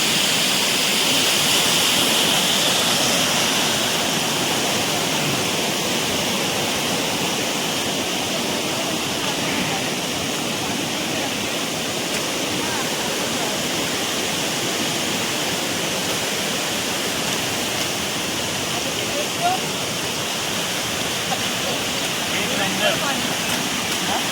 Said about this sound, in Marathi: हे बघा असा धबधबा आहे बघा एक नंबर